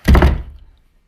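A single heavy, dull thunk of someone bumping into a door, close and loud, with a short decaying rumble afterward and no talk.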